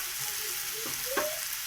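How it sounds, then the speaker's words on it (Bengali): Ground spices with salt, turmeric and chaat masala sautéing in a pan, a steady soft sizzle throughout with a brief scrape of stirring near the end. "দিয়ে মশলাটা আমি ভালো করে কষিয়ে নেব"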